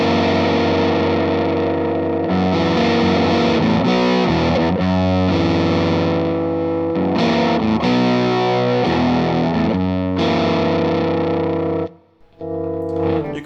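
Electric guitar through a fuzz pedal with the guitar's volume rolled back, a gritty, overdriven tone playing a sequence of chords and notes, loud and up front, with a brief gap near the end.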